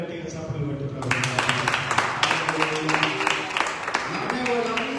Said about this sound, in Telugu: నమ్మితే అందరూ గట్టిగా చప్పట్లు కొట్టి